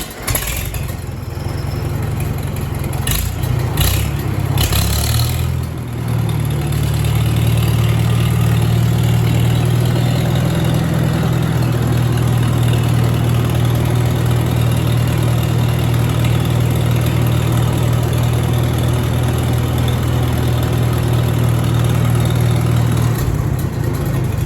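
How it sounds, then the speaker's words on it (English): A four-cylinder tractor engine cranks and starts from cold, then settles into a steady, loud, close idle with a low even hum that runs alone to the end. "So it's got the 4-cylinder engine in it, I do believe. So it purrs a lot nicer than a John Deere 2-cylinder"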